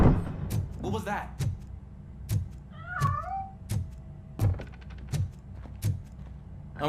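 A cat meows briefly in the RoboCop Rogue City video game, a short wavering cry amid sharp metallic clicks and footsteps, with faint game ambience around it.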